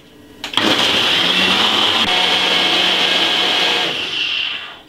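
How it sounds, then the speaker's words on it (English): A Ninja blender whirs loudly and steadily for several seconds after switching on, a dense high-pitched motor roar with no talking. "we're gonna blend this about 3 to 4 minutes on a ninja blender"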